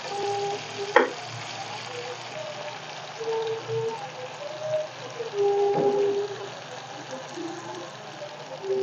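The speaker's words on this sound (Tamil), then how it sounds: "வெங்காயம் பொரிஞ்சு லைட்டா பொன்னிறமா வந்து கொண்டிருக்குது." Onions frying in oil for a tomato and curd sambal, a steady close sizzle with a single sharp clink near the start, some faint background tones, no talk.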